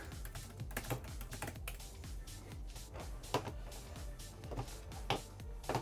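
Keys clatter on a computer keyboard while an email address is typed in during setup of a new Mac Studio M1 Ultra, a quick irregular run of close, crisp taps with brief pauses.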